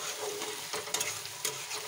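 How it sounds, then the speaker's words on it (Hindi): Onions fry in a pan and are stirred toward golden brown for a chicken dish, giving a close, steady sizzle broken by a few distinct scraping clinks of the spoon. "देखिए हम इसे चला रहे हैं, हम इसे चलाते रहेंगे। इसे हमें गोल्डन ब्राउन करना है।"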